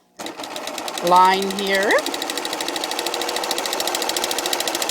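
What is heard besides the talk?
sewing machine stitching hair wefts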